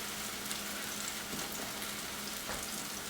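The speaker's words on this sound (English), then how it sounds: "I'm just going to let it fry." Potato pancakes made from leftover mashed potatoes fry in a pan with a steady, even sizzle and crackle throughout, with no voices over it.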